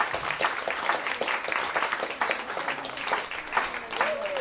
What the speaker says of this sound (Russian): Да, для всех музыкантов аплодисменты.